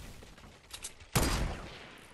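A sniper rifle in the Fortnite Battle Royale game fires a single sharp, loud shot after faint quieter activity, then its report decays into a ringing tail.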